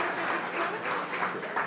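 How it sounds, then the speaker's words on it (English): Audience applause for a chef during a cooking competition judging, a steady wash of many hands clapping at moderate level for under two seconds with no voices over it. "Big round of applause."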